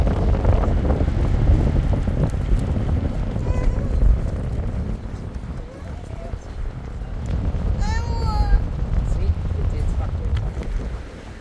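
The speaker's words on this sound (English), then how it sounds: "Oh, super windy here." Heavy wind buffets the microphone near the pier and old lighthouse at Mumbles, Swansea, with a steady low roar throughout, while people talk over it and a higher voice briefly rises near the end.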